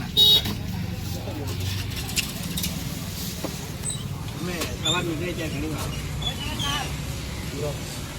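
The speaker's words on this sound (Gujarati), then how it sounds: "ખૂબ ટ્રાફિક હોય છે અહીંયા જ્યુસ સેન્ટરમાં" Busy road traffic rumbles nearby with passing vehicles and a short horn toot near the start, a voice talking over the steady street noise.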